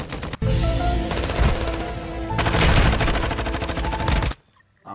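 Two long, loud bursts of rapid automatic gunfire in a video game run almost back to back before cutting off abruptly into near silence.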